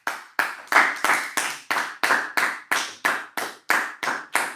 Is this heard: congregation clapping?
yes